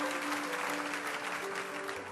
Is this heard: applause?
yes